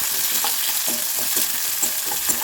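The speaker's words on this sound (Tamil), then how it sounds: "நம்மளோட சோம்பு உளுந்தம்பருப்புலாம் நல்லா பொரிஞ்சிருச்சு" Fennel seeds and urad dal frying and crackling in hot oil in a pan, a steady close sizzle with soft popping and the scrape of stirring, no talk.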